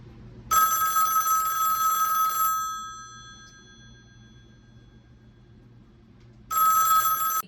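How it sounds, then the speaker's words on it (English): Western Electric rotary telephone with its separate ringer box, its bell ringing loud and near in a sustained burst for two seconds, going silent for about four seconds, then ringing again. "It's a Western Electric rotary phone, and it even has its ringer box."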